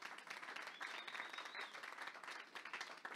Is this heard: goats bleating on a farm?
no